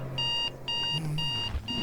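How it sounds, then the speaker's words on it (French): An alarm clock rings in repeated bright electronic beeping bursts, three to four pulses close by and loud, over a faint low hum. "Hélas, le réveil sonne."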